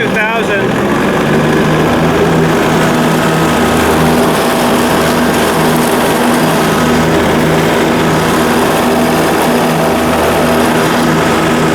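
Lawn mower engine in mow mode revved up to just over 2,000 RPM, a loud, steady droning hum with an even pitch that runs the whole time.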